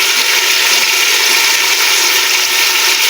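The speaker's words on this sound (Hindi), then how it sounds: "अच्छी तरह से भूनेंगे।" Chopped large tomatoes and a cup of yogurt frying in a pot for white beef pulao, a loud, steady, close-up hiss of sizzling with no talking.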